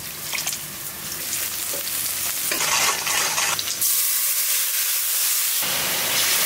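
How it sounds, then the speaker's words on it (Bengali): Spices, salt, turmeric, cumin and chili powder, fry in a large wok, a loud sizzling hiss that swells and drops as the mix is stirred and scraped, with no voices. "ভালো করে মশলা কষায় এখন"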